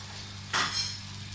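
A flaxseed roti laid onto a hot ceramic-coated tawa gives a short burst of sizzle and a soft contact sound, fading to a quieter hiss over a steady low hum.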